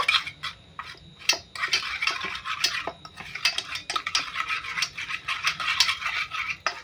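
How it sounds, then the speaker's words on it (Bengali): A spoon stirs powdered milk into milk in a metal pot while making an Indian sweet, giving quick, uneven clinks and scrapes against the sides, close up and with no talking. "একটু গুঁড়ো দুধ ভালো করে মিশিয়ে নেব"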